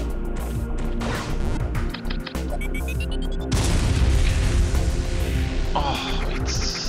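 A Super Bomb goes off in a Metroid 2 remake game, a sudden loud crashing boom midway that swells into a sustained roar over a busy backdrop of game music and effects, with no voices.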